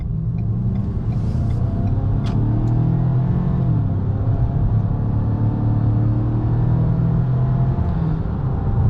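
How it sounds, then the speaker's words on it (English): A 2023 Ford Maverick Tremor pickup accelerating on the road, a steady low engine drone with rising and falling pitch and road rumble, loud and continuous throughout with no voices. "Let's test that acceleration real quick for you guys."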